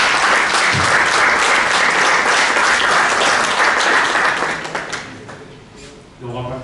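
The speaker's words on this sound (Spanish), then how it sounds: "Un aplauso." An audience at a Madrid book presentation on historical memory breaks into sustained, dense applause that tapers off toward the end, where a voice begins to speak.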